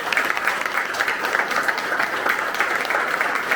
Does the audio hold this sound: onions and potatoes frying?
no